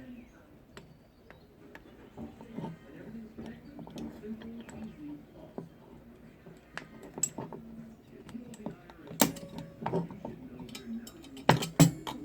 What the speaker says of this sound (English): And I just clamp it together.